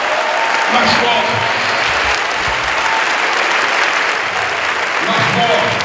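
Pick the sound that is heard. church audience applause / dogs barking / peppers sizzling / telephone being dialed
church audience applause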